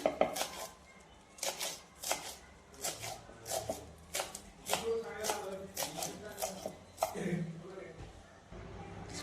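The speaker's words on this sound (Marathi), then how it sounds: "पालक मी बारीक बारीक चिरून घेते अशा पद्धतीने सगळी पालक चिरून घ्यायची" Spinach is finely chopped with a knife on a board for dal palak, with a quick, fairly regular run of crisp knife strikes close by, about one or two per second, with faint kitchen rustling.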